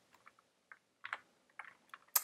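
Scattered keystrokes on a computer keyboard while using Unity editor shortcut keys, a dozen or so quiet clicks in uneven bursts, close and alone with no talk, ending on a sharper tap.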